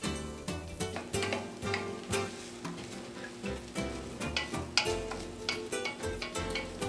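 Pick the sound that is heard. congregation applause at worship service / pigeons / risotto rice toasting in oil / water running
risotto rice toasting in oil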